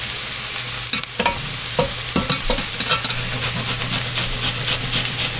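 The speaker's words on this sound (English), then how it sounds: "I'm just softening these onions for a minute here." Onions and minced garlic sizzle steadily in a pan, with a constant frying hiss and a few sharp scrapes and stirring knocks from a utensil, close and continuous, with no talk.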